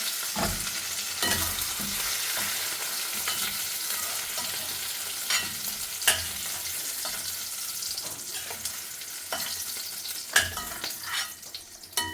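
Capsicum sautéing in oil in a pan sizzles continuously, with intermittent scraping and clinking as it is stirred and a few louder knocks toward the end.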